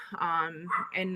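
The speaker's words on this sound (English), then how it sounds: "I told you I apologize for my dogs." Dogs at home bark and yip in a couple of quick, close bursts, loud and whiny, overlapping with someone speaking briefly.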